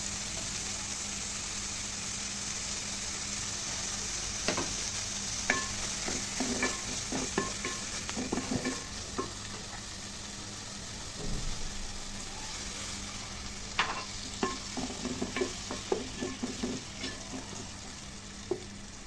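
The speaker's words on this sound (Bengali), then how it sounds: "এই পর্যায়ে আমি মশলাগুলোর মধ্যে দিয়ে দিলাম চিংড়িগুলো" Shrimp stir-fried in a cooked-down spice masala, with a steady loud sizzle under repeated scraping stirs of a spatula in the pan and no talking.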